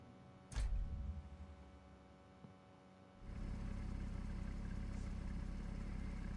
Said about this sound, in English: Idle sounds good. This normally comes with a flat 6.